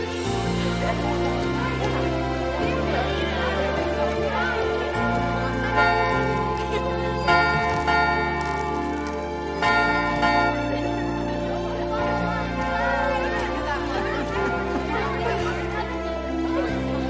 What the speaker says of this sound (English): Can I ring the bell, please?